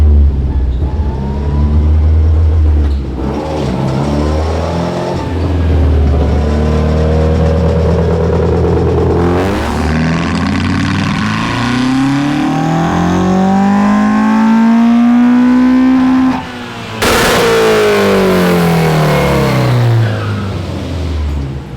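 A Honda Civic converted to rear-wheel drive runs a baseline dyno pull, its engine loud and close as it idles, then revs hard through several rising sweeps with a short drop between them, before climbing again to a high-pitched wail.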